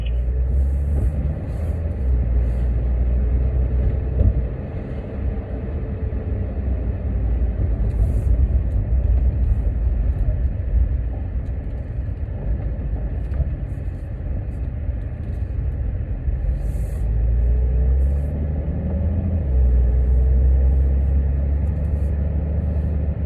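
A Porsche 911 being driven on a track, with a continuous low engine rumble and road noise that rises and falls with small shifts in engine pitch, heard from inside the car throughout, no talk.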